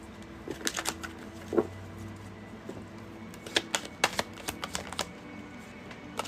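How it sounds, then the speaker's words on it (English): A tarot deck is shuffled by hand during a card reading, giving a scatter of crisp card flicks and riffling clicks in quick bursts. It sounds close and moderately quiet, with no talking. "One more shuffle."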